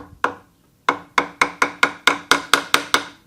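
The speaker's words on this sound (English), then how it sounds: "I've got the chisel in my line there, and then I'm tapping" A chisel is tapped into wood while building a three-legged stool: one sharp knock, a short pause, then about ten evenly spaced, crisp taps in steady rhythm, close and loud.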